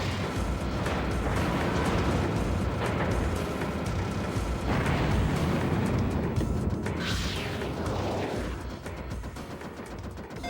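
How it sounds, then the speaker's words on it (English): A bomb detonates in the Dreamcast shoot-'em-up Under Defeat, producing a dense, loud, continuous roar of explosions layered over the game's constant blasting and music, easing slightly near the end. "I'm just gonna bomb."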